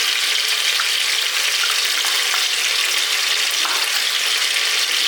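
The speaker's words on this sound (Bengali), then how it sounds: "মশলাগুলো দিয়ে দিচ্ছি রসুন বাটা আদা বাটা আর লঙ্কা বাটা" Garlic, ginger and chili paste frying in hot oil, a steady close sizzle with faint crackles throughout and no voices.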